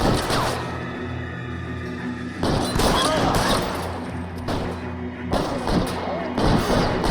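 Gunfire cracks in a shootout in the video game L.A. Noire, coming as loud volleys in repeated clusters over a rumbling background, with louder bursts near the middle and end.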